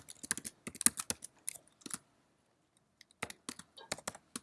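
Computer keyboard typed on in quick bursts of crisp key clicks, close and clear, with a pause of about a second partway through before another short flurry.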